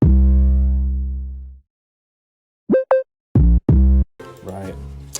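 Booming 808 bass notes from a hip-hop beat play alone: one long decaying note, then a gap, then several short punchy hits that lead into a busier musical passage.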